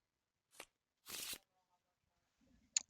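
Playing cards from an Arkham Horror card game are shuffled back into a deck: a quick short riffle, then a longer dense burst of card shuffling, and a sharp snap near the end, with silence between.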